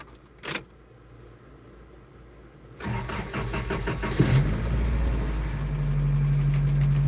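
A Toyota 22RE truck engine cranks and catches with a rough burst, then settles into a steady mid-pitched idle, loud and close, after a faint click and a few seconds of quiet.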